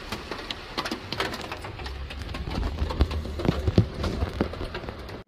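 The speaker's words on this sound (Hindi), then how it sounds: "और देखिए बारिश, शदीद तेज़ बारिश हो रही है, बहुत ज़्यादा।" Heavy, steady rain drums on a roof overhead, a dense continuous patter with scattered sharper drips and thuds, close and fairly loud throughout with no talking.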